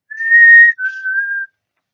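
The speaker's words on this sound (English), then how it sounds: "I hear a zookeeper whistling in my ear." A person whistles two clear sustained notes, a higher one then a slightly lower one, close and loud, in a preschool call-and-response song, with quiet around it.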